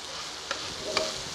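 A spoon stirs brain masala (bheja fry) as it fries in a pan. Soft sizzling runs under two brief scraping taps, and no one speaks.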